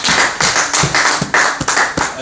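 A church congregation claps together in a steady rhythm, bright sharp claps repeating about every half second, close and loud, filling the space during worship.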